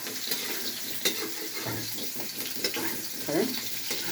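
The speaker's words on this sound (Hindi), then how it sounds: "और अब हम इसको फ्राई कर रहे हैं" Soybean chunks fry in a pan with soft sizzling, broken by scraping stir strokes and a few sharper clinks, while a voice speaks intermittently in the background.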